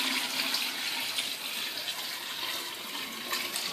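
Hot water pours steadily into a bucket of blackberries, a continuous splashing rush at fairly low level with no pauses and no voices.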